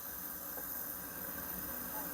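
Kovar K-202 camping stove at full flame heating a one-litre kettle of water, a steady broad hiss of burner and near-boiling water, with faint talk in the background.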